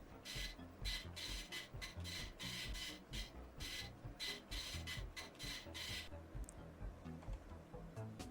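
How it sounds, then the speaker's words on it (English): A printer in a video game repeatedly rasps and scrapes while producing a plastic replica of a gun, with even bursts of mechanical grinding over a steady low hum, close and moderately loud, ending in quieter hum. "This printer model uses materials that faithfully reproduce the original objects by starting from simple photos."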